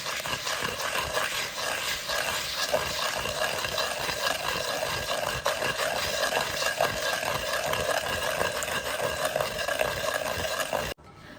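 Almond thandai paste with sugar and a little water being ground and pounded by hand, a steady, continuous rough scraping and rubbing that runs close and fairly loud for about eleven seconds before stopping abruptly.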